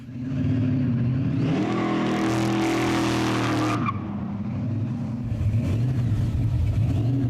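A 1956 work truck fitted with a Cobra motor revs hard, the engine climbing to a loud roaring peak, then dropping back to a deep rumbling idle; close, powerful and continuous with no voices.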